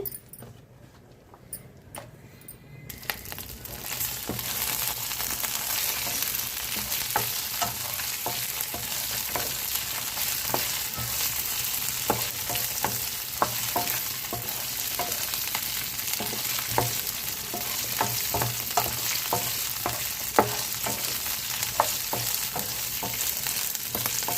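Continuous crackling sizzle of spices and green chilies frying in a pan for ridge gourd peel chutney, with occasional sharp pops and stirring scrapes, steady and close throughout.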